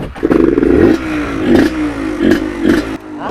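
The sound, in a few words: Suzuki TS 125 motorcycle revving at full throttle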